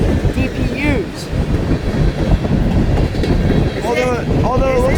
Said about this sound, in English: it looks like this train's coming up to an end